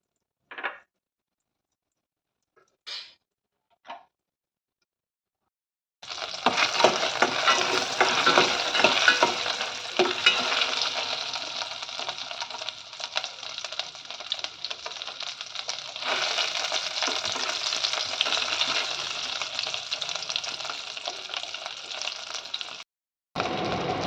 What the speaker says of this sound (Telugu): ఇప్పుడు చామదుంపలు ఫ్రై చేసుకోవాలి.